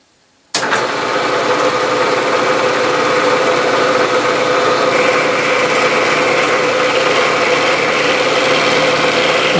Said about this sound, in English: there's an hour's worth of milling here